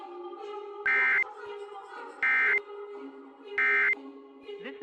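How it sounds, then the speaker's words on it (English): A National Weather Service radio alarm tone in a snow squall warning broadcast sounds three times as loud, steady two-tone bursts, each about a third of a second long, separated by quieter stretches of broadcast tones and background sound. "this has only been a test of the National Weather Service's radio alarm tone."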